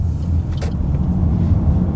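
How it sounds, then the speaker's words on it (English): A four-wheeled car with air conditioning and cruise control drives along, a steady low engine and road rumble heard from inside the cabin, continuous and unbroken with no talk. "I am driving in a car with four wheels, with air conditioning,"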